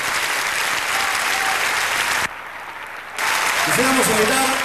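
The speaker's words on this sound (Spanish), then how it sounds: "Un gran aplauso para ellos." Audience applause for a dance troupe at a live folk music concert, a dense, loud wash of clapping that dips briefly and then swells again as a voice speaks over it.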